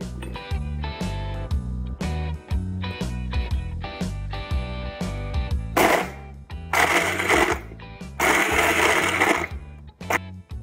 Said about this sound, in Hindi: सबसे पहले हम जिम जैम बिस्किट्स को मिक्सी में ग्राइंड करेंगे ताकि वो एक फाइन पाउडर बन जाए